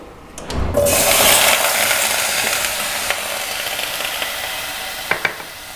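Lotus stems (beeh) for a Sindhi recipe are dropped into a hot, dry degchi with no oil, setting off a sudden loud hiss that settles into a steady sizzle, with a few sharp clinks near the end.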